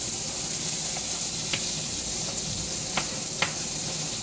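Shrimp frying in butter in a pan over medium heat, a steady soft sizzle with a few faint clinks of a utensil against the pan.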